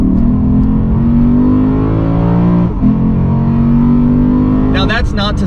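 A 2023 Lexus RC F Track Edition with a naturally aspirated V8 pulls hard under acceleration, a loud steady engine drone with climbing harmonics and a brief gear-change dip, closely miked from inside the car.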